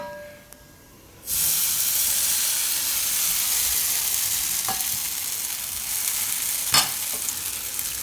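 Oats and vegetable pancake batter hits a hot tava, bursting into loud, steady sizzling and hissing that holds for several seconds after a brief quiet start, with a faint clink partway through.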